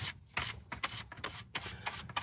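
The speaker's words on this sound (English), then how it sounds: "do a little bit of carving. These are really cheap chisels" Wood is carved with cheap hand chisels in a series of short, close scraping and rubbing strokes, about eight quick bursts with brief pauses between them and no talking.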